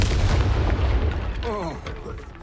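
A Confringo fire spell in the Hogwarts Legacy video game goes off as a loud, heavy boom with a rumbling low blast, then trails into wavering whooshing magical tones that fade over about two seconds.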